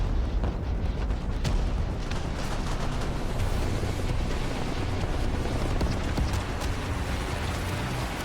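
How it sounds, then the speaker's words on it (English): A PzH 2000 self-propelled howitzer fires in the video game Broken Arrow, heard as a dense, continuous roar of artillery rumble with a few sharper blasts standing out. "so self-propelled howitzer"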